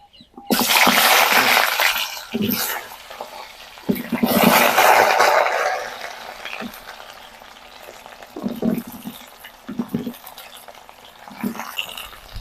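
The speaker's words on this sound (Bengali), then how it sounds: "এবার আমি প্রথমে কুমড়োগুলাকে ভেজে নেব" Pumpkin pieces fry in a pan for a village-style pumpkin curry, giving a steady broadband sizzle that swells and fades, with a person talking over it.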